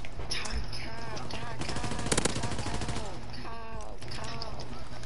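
Rapid automatic gunfire from a high fire-rate gun in a WW2 video game, bursts of quick shots that peak mid-clip, mixed with game sounds and talk.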